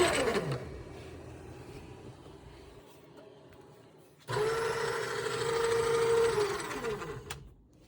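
Motor of a 3D-printed shredder spins up with a steady mechanical whir after an earlier run winds down, loud and close, with a brief pause before it starts again.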